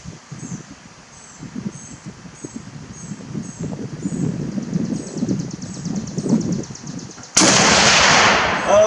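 A single loud, close report from an M1917 Eddystone rifle cracks out after several seconds of quiet outdoor background with faint rustling, the blast spreading into a broad ringing wash.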